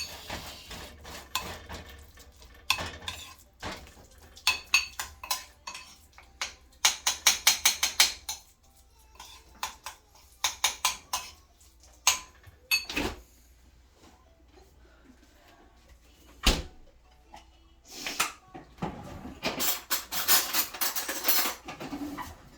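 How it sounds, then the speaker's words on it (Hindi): A spoon mashes baby khichdi with flax seeds and ghee in a bowl, making irregular close clicks, scrapes and taps against the dish, coming in clusters between quieter stretches. "अभी इसको मैं मैश कर दूंगी।"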